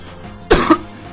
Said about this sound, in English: that was the first time I coughed in like hours